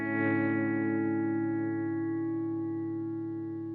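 A sustained electric guitar chord rings out under a heavy, cavernous cave-style reverb pedal, holding steady and fading only slightly over several seconds.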